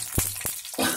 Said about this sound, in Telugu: ఎండు మిరపకాయలు వేగుతున్నాయి